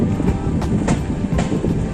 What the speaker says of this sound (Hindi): और ये हम लोग पहुँच चुके हैं दुल्लापुर रेलवे स्टेशन